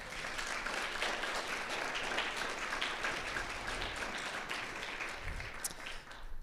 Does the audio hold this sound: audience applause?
yes